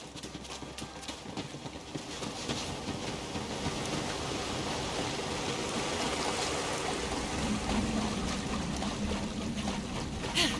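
A waterfall in the Borderlands video game pours in a steady, dense rush of falling water that swells slightly louder as it goes, with no voices over it.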